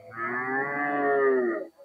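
A single cow at a cattle market lets out one long, full moo that swells and then fades, clear and fairly close, with only faint background noise around it.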